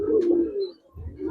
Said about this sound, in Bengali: না না, বাঘা কবুতর এটি